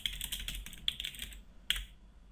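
Quick bursts of typing on a computer keyboard, crisp close keystrokes in short runs with brief pauses, heard alone in a quiet room.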